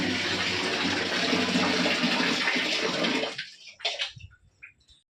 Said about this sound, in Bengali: এটা বাথরুম ঘরে কলটা বন্ধ করে দিই